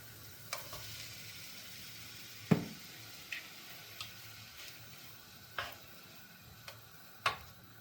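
Shrimp sizzle and fry in a pan with garlic and ginger sauce, a steady hiss broken by a few sharp crackles and taps of stirring, fairly quiet and close, with no talking.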